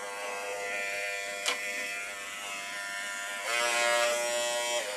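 An electric hair clipper cuts hair with a continuous close buzzing hum, briefly interrupted by a click, and growing slightly louder and rougher toward the end as it passes through hair.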